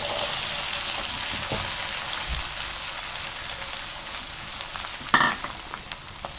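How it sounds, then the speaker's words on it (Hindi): Okra (bhindi) fries in hot oil for aloo bhindi salan, giving a steady, crackling sizzle close by, with a brief clatter of utensils partway through. "और इधर हम भिंडियाँ फ्राई कर लेते हैं।"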